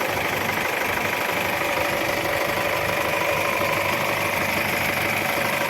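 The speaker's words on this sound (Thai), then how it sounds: "เป็นไงครับเครื่องยนต์นิ่งๆเลยนิ่งๆเงียบๆเลย" An Isuzu MU-X 2.5 diesel engine idles steadily with an even low rumble and faint knocking, close and constant, no voices.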